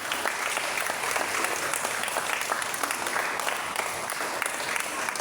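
Loud, sustained applause from a church congregation fills the whole stretch, a dense and even wash of many hands clapping close by, with no voices standing out.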